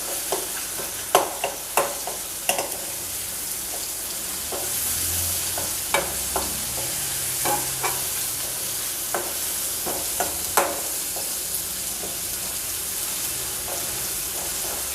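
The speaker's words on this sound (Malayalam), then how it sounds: "തക്കാളിയൊക്കെ നന്നായിട്ട് വഴന്ന് വന്നിട്ടുണ്ട്." Tomatoes with chili powder sizzle steadily in a pan for vermicelli pulao, a continuous broadband fry punctuated by frequent sharp clicks and scrapes of stirring, close and fairly loud, with no voices.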